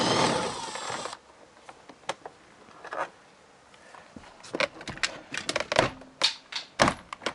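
Car door panel work on an Alfa Romeo Giulietta: a burst of hiss, then a series of sharp metallic clicks and clunks from undoing the last bolt, irregular and close.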